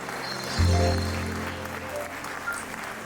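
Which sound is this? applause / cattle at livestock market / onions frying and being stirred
applause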